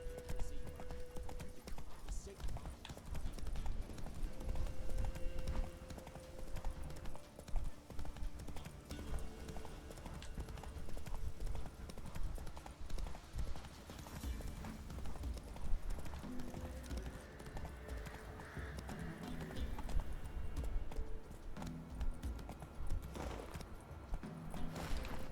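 A horse gallops in The Witcher 3, its hooves clip-clopping in a fast steady rhythm for the whole stretch, with a brief whinny and someone talking over the game sounds.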